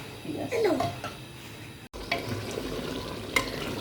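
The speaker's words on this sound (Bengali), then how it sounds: "দেখো মাংসটা কিন্তু কষানোর পর্ব চলছে" Mutton is stir-fried in a pot, with scraping spatula strokes and metallic clinks over a moderate sizzle, briefly interrupted before the frying continues with occasional sharp knocks.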